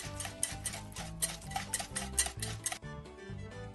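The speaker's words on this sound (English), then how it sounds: "One more stir to mix it all up." A mixing bowl being stirred in the Max and Ruby bunny baking game, rhythmic clinking and scraping of a spoon against the bowl over light cartoon background music, no one talking.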